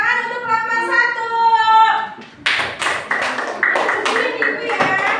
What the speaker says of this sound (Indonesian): Udah, tepuk tangan untuk kelompok 1.